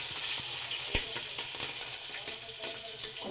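Green chillies sizzle and crackle in hot oil in a pan while a paneer dum biryani is being cooked, a continuous frying hiss with occasional stirring clinks and pops, close and steady.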